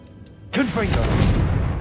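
A Confringo blasting spell in Hogwarts Legacy, an abrupt loud burst after a quiet opening, followed by a whooshing, sweeping tone and a sustained rumbling blast with a voice mixed in.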